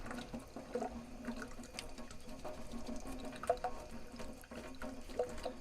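Faint running water splashes steadily from a tap while rinsing a stripped diecast model car body, a soft continuous trickle with small clinks.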